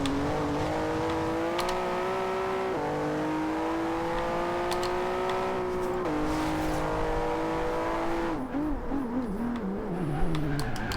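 A 2015 Volvo S60 Polestar races in Forza Horizon 2, its engine holding a steady high whine that climbs through gears with brief dips at each shift, then wavers as the car brakes and turns near the end.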